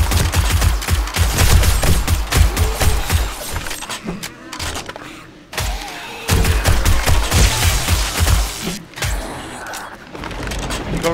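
Gunfire in 7 Days to Die rings out in rapid, loud bursts of repeated shots, broken by brief pauses, with a sniper rifle and other weapons firing close by.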